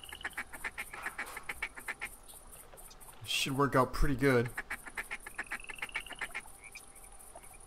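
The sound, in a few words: ducks calling as they fly in, from video game theHunter 2017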